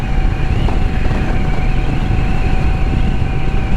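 Motorcycle engines race outside near a house in San Antonio, making a loud, steady droning roar with a sustained tone that shifts only slightly in pitch. No voices are heard.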